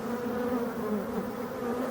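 Dense, continuous buzzing of a honeybee colony in a hive being shaken, a loud, close, steady drone with no pauses or voices.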